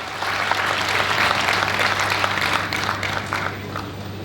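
Loud, sustained applause from a live audience at a fan club stage program, many hands clapping in a dense, even wash that tapers slightly toward the end.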